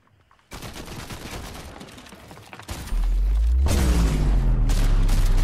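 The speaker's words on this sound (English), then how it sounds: "He's shooting me through builds!" Gunfire in a Fortnite solo cash cup match: a dense volley of rapid shots rattles close and loud, then a heavy boom with a deep rumble takes over and keeps pounding.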